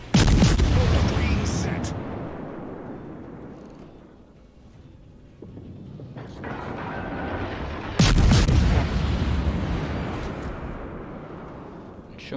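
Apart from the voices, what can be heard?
Edinburgh cruiser guns firing in World of Warships video game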